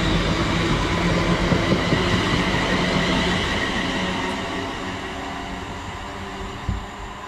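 A West Midlands Railway Class 350 electric multiple unit pulls away, a loud, steady rumble of wheels and traction noise close by that slowly fades, with faint wheel squeal and no talking.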